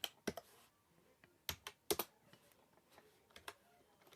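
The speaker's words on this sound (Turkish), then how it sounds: "Ben buraya anlamsızca bir şeyler yazıyorum şu an." Light taps and clicks of typing on a phone's on-screen keyboard come in irregular bursts, faint and close, with no voices.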